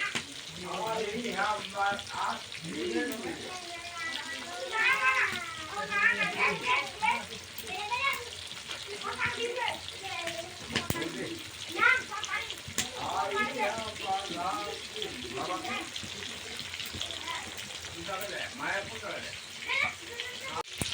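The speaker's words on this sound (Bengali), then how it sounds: "মাছগুলাকে নাড়াচাড়া করে নিলাম আর ভাজা হয়ে যাচ্ছে" Fish pieces frying in a pan give off a steady sizzle that sits beneath nearly continuous speech from a person talking close by.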